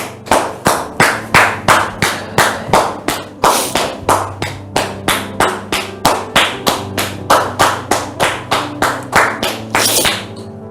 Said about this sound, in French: Sous vos applaudissements, s'il vous plaît.